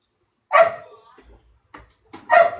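A dog barks sharply twice, close and loud, with a brief whimpering whine between the barks.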